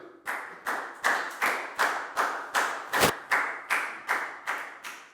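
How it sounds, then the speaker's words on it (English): A classroom of pupils claps together in a steady unison rhythm, about a dozen sharp, even beats close up, with no talking over it. "And a big round of applause for Pat."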